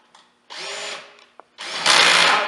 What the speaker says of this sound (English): I've reinstalled all the mounting bolts to the cross beam, and now I'm just snugging them up.